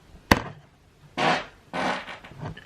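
A woman breaks wind: one short sharp burst followed by two longer, louder raspy farts, close and alone with no talking.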